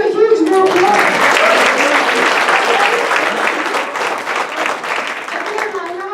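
A business expo crowd breaks into loud, sustained applause that swells quickly and tapers slightly, with a voice speaking briefly at the start and end.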